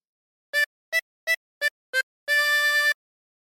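A 16-hole tremolo harmonica plays a phrase of Oh Susanna: five short, evenly spaced reedy notes, then one sustained note, close and alone with no talking.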